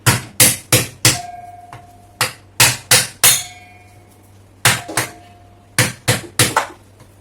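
A hammer strikes a coconut to break it open, about fifteen sharp, loud, close knocks in uneven bursts with short pauses between groups, and no talking.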